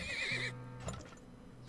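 A horse neighs in Turmoil, an oil-drilling game, with a bright wavering whinny for about half a second, followed by a soft thud and faint background game noise. No speech is heard.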